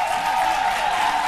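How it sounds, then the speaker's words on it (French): A studio audience at a French-language midday television show on RTI 1 claps and cheers in a dense, continuous burst of applause, loud and steady for a moment. "Je veux vous entendre vos applaudissements les plus chauds."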